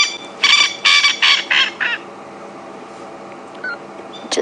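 A male coqui francolin at Djuma Game Reserve calls with a series of loud, harsh, rhythmic notes in quick succession, followed by a quieter pause and a brief renewed burst.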